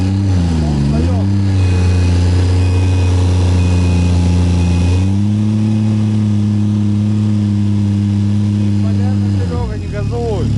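A snowmobile stuck deep in snow on a lake revs its engine hard. The loud droning rises and falls through several throttle changes, and a voice speaks over it at times.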